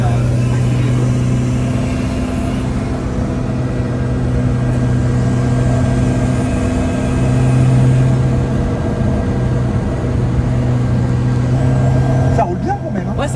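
A Carver One tilting three-wheeler cruising on the road, its engine a steady low drone with constant road and wind rumble from inside the cabin, swelling slightly midway before a brief clatter near the end.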